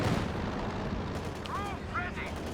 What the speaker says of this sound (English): this could be a huge hit though from the Katyusha